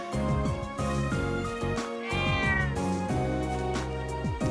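A cat in the video game Trails of Cold Steel meows repeatedly, clear close mews layered over steady background game music with no talking.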